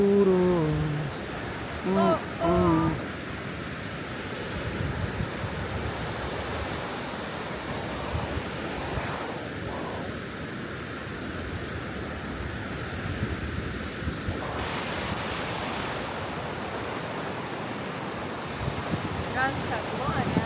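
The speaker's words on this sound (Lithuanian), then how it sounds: "O mes prie jūros." Sea waves wash steadily onto the shore in a continuous broadband rush, with brief voices talking near the start.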